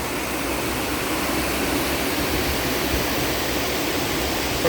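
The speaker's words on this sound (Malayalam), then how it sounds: "സ്ഥലത്തിൻ്റെ സൈഡിൽ കൂടെ തന്നെ ചെറിയൊരു തോട് ഒഴുകുന്നുണ്ട് ചെറിയൊരു വെള്ളച്ചാട്ടമൊക്കെ കൂടിയാണ്" A small stream with a little waterfall runs beside hilly farmland with cardamom and pepper in Idukki, giving a continuous, even rush of flowing water that holds steady without pause.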